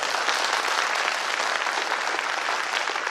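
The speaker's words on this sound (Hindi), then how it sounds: "जोर से ताली बजाइए फिर पता चले।" Loud, dense applause from a seminar audience fills the whole span, a steady wash of many hands clapping together with no break and no one talking over it.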